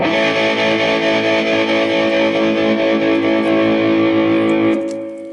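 A sustained electric guitar chord rings through a tremolo pedal, loud and continuous with a steady pulsing shimmer, before fading out at the end.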